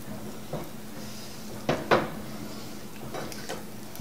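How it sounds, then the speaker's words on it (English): Spices like cayenne and cumin are stirred into a cheese sauce for nachos: a few soft spoon clinks and scrapes against the pot, two slightly sharper knocks in the middle, faint and close over a quiet kitchen hum. "Give that a stir."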